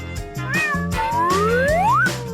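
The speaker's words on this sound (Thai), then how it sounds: "ฉันซ่อนลูกแมวไว้ในกระเป๋ากล้องเดี๋ยวนี้เลย" A kitten meows repeatedly from inside a camera bag, a run of close, clear, rising mews with short gaps between them and no talking.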